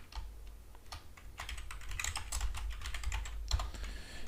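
Close keyboard typing on a computer while entering variables in a SCADA industrial data-analysis tutorial, a steady patter of light key clicks building into a denser burst, with no talk.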